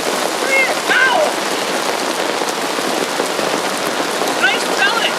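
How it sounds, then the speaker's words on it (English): Hail falling during a windy storm on the prairie, a dense, steady hiss of pellets pattering on surfaces, loud and continuous, with faint voices and birdlike chirps briefly audible beneath it. "Oh, weird! Look at it! It's hail!"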